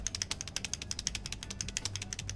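Rapid, rattling clicks from the Enter key of a Noir Timeless HE mechanical keyboard with its dampener still installed, a dense run of sharp taps that stays steady and close, with no talking.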